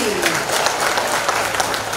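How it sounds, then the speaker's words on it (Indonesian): Audience applause for the regent at an official gathering, a dense steady wash of many hands clapping at close range throughout. "Tepuk tangan buat Pak Bupati"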